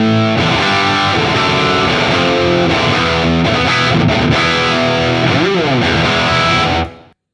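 Loud, heavily distorted electric guitar playing sustained chords and riffs through a Headfirst Alta100 amp on channel 2 in modern mode, bright switch off, for several seconds, then cutting off abruptly.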